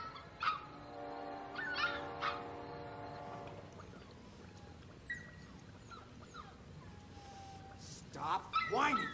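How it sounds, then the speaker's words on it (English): A dog whines in a few faint, high, tonal whimpers that rise and fall, with brief quieter squeaks and a short burst of indoor activity near the end. "Stop whining, you worthless mutt."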